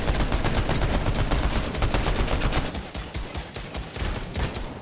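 Rapid automatic gunfire from spraying an enemy in Fortnite during a competitive FNCS match: dense, continuous bursts of shots, loud and close, that stutter and thin slightly toward the end.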